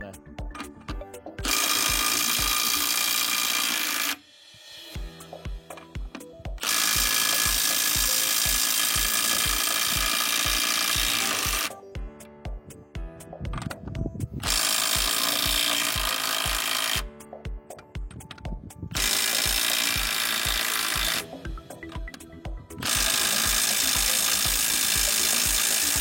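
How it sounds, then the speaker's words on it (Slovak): Milwaukee M12 FCIWF12G3 12V cordless impact wrench loosening bolts on M22 threads: several loud, sustained hammering bursts of a few seconds each, separated by short pauses, heard up close with no talk. "tieto skrutky už samozrejme budem len povolovať"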